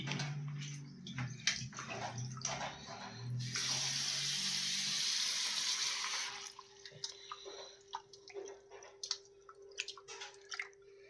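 Fish pieces are washed by hand in water, with splashy sloshing and squishing, a burst of running tap water in the middle, then scattered drips and wet handling sounds up close.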